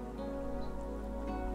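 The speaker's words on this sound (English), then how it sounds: "Providing environmental warnings allows the chameleon to prepare for the upcoming rain shower." Automatic mister spraying a fine, steady hiss of water inside a baby chameleon's cage, continuous and close throughout, over a low constant hum.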